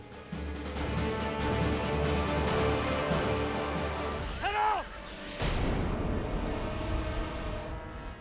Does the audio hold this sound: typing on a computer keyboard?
no